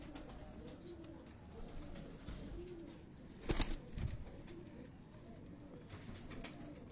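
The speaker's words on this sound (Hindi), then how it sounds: "ये जी कबूतर हमारे पास" Prince-breed pigeons coo softly on a Lahore rooftop, a faint low rolling murmur with a brief flutter of wings midway, quiet ambient noise throughout and no talk.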